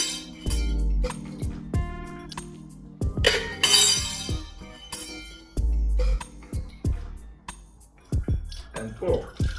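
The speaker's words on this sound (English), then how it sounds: "You just turning the shaker without any throws, just turn, that's it, and you already can pull." Metal cocktail shaker tin and glass handled in a bartender flair pouring move, giving sharp clinks and knocks at irregular intervals, close and fairly loud, with a voice talking in places.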